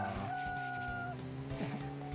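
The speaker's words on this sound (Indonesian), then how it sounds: "Suara ayamnya bener-bener suara ayam asli lo." A chicken clucks in PUBG Mobile, its calls rising over a steady background of game music and noise.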